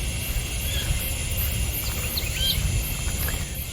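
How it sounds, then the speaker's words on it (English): Cicadas drone steadily in a small urban park in Tallahassee, a constant high buzzing over low background rumble, with scattered bird chirps and calls mixed in. "The cicadas."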